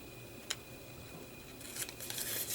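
Scissors snip through paper and washi tape while a creative daily journal is set up: one sharp cut near the start, then a cluster of quick, close snips toward the end, with no talking.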